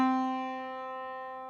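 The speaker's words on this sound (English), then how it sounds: "If I play a C, on the middle of the keyboard, it'll sound like this." A single piano note, middle C, struck once and left to ring with a clear steady tone that slowly fades, alone and fairly quiet.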